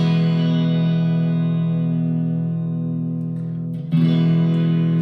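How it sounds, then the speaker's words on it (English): A Squier Classic Vibe Telecaster on its neck pickup, clean channel with reverb and delay, rings out a sustained chord that slowly decays, followed by a fresh strum near the end. "I've just got some of the neck pickup on the clean channel with a bit of reverb and delay, but I'm just going to play a few chords"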